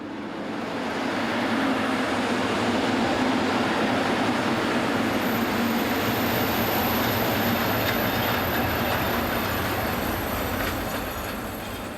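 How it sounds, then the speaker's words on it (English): Electric locomotive 143278 pulls a local passenger train into Pressig station, a loud, steady rumble of wheels on rail with a thin high wheel squeal running over the top as it rolls close by. "as 143278 arrives with a local service for Lichtenfels"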